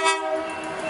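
A freight train horn sounds loudly and steadily for a moment as it passes a station, with rumbling rail noise beneath it.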